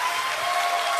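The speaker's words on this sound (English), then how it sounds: "Why don't we just clap right now?" A church congregation clapping together, a brief dense burst of many hands at moderate volume, with a faint steady tone running through it.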